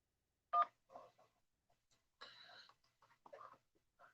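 A telephone keypad tone sounds once to accept an incoming call on a talk show, a short sharp beep followed by faint, quiet speech-like sounds.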